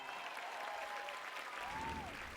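At the Oscars, the audience applauds the best actress nominees as each is named, a dense, even patter of clapping across the whole hall, with faint tonal music and voices threaded beneath it.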